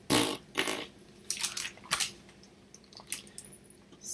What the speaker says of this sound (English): The horn sounded, brr, brr, and Walter farted.